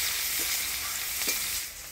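Chopped onion frying in hot tempering oil with dried chilli, cumin seeds and bay leaf in a pan, a steady close sizzle with a few faint stirring knocks.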